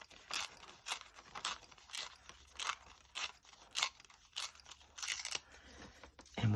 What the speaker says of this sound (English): And then we'll cut this one off too.